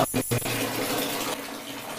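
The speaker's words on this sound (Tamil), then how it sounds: "நீங்க சொன்ன மாதிரி ஃபர்ஸ்ட் ட்ராப்பே வந்துட்டு ஹாட் வாட்டர் தான் வருது சார்" Hot water runs from the tap of a solar water heater, a steady splashing flow following a few brief knocks at the start, fairly close and alone.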